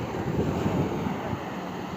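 Sea waves washing onto the shore, a low steady rumble of surf with wind buffeting the microphone, no voices.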